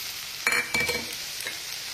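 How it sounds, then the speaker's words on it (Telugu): Onions and green chillies fry in a pan for a mushroom curry, giving a low, steady sizzle broken by a couple of brief stirring scrapes; no one speaks. "పచ్చిమిరకాయలు కూడా వేసి మంచిగా వేయించుకుందాం"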